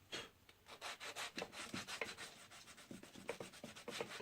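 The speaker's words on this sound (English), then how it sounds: "Take your piece of sandpaper again and sand the surface." Sandpaper rubbed back and forth across the surface of a book being rebound, a close, raspy scratching in quick repeated strokes of roughly even rhythm, moderately loud with no voices.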